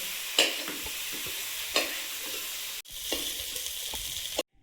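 Prawns with turmeric frying in hot oil make a steady, close hiss, punctuated by a few spatula scrapes and stirs before the sizzle cuts off abruptly at the end.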